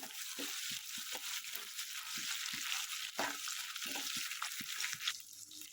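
Ginger garlic paste frying in a pan for masoor pulao, a faint steady sizzle with soft crackles and occasional scraping stirs, heard alone without talk.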